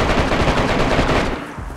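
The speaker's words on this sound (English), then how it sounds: "Is that you shooting?" Rapid automatic gunfire from a video game, loud and continuous bursts filling the whole stretch, easing slightly near the end with no talk over it.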